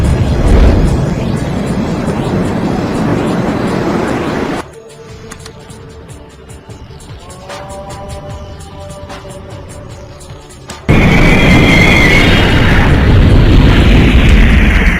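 A deep boom bursts out in a film scene of a missile launch, a loud rumbling blast at the start and another heavy roar near the end, with a quieter stretch of tones and clicks between.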